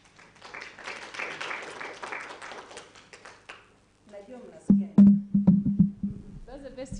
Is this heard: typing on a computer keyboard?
no